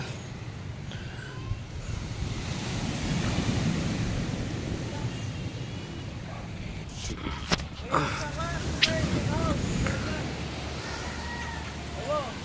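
Calm sea with low, steady wave wash and wind rumble, fairly faint and continuous, with a few brief knocks and some distant voices partway through.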